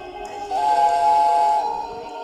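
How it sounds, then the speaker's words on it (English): A sustained steam train whistle sounds through a foggy scene, one steady tone lasting about a second under a hissy background, fairly loud and without talk. "That sounded like an engine, but I never heard that whistle before."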